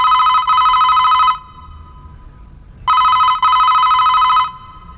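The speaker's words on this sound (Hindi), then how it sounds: "फोन नहीं उठा रहा" A telephone bell rings unanswered in two bursts of rapid trilling, loud and close, separated by a pause of near silence.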